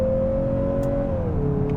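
A 2023 Mazda CX-50 launched hard after brake-torquing, front tires spinning, short-shifting at 5,500 rpm: a steady, loud engine drone that dips in pitch briefly as it shifts.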